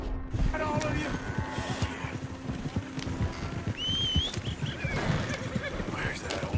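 Hooves clip-clop from a horse in a PS4 video game, with a whinny partway through, mixed with clattering game effects and a player talking over the top.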